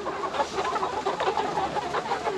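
Several chickens cluck and murmur together nearby in a continuous busy chatter, moderately loud, with no talking.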